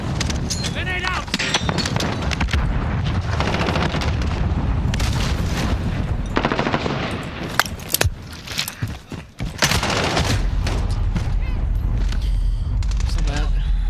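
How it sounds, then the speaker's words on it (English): A grenade blast and gunfire in Call of Duty Modern Warfare hardcore mode give heavy booms and rumbling bursts with one sharp hit midway. Players talk over the battle noise. "Grenade out!"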